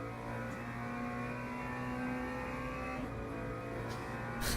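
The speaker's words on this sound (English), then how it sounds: "the McLaren is quite pleasant to drive around here" McLaren race car engine in Le Mans Ultimate, a steady droning hum at roughly constant revs with tonal harmonics, heard from the cockpit at moderate volume with little variation.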